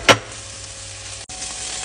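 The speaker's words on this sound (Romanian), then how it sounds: "Pun un usturoi mic. Un pic de ceapă. Prăjim bine. Ardei galben sau roșu și verde." Garlic, onion and yellow, red and green bell peppers fry in a pan with a steady close sizzle, after a brief sharp clink at the start.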